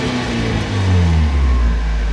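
A 1990s Mazda Miata NA6 with a Yonaka exhaust sits idling, a low steady rumble up close that dips and settles into a deeper drone partway through, with no talking.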